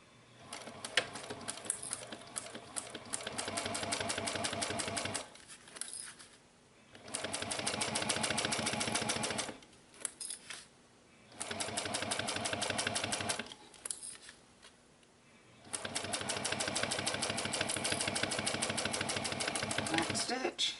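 A sewing machine stitches a 1/4 inch seam on a wristlet clutch, running in several long, fast, even bursts with brief pauses between them.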